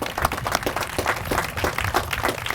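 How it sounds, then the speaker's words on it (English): A crowd at the ARS grand opening claps for staff in steady, moderately loud applause that continues evenly throughout. "I want us to give them a round of applause because they got a big challenge."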